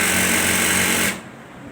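A sewing machine stitches the seam of a men's shalwar in one brief, loud, close run that stops abruptly about a second in, leaving quiet room tone.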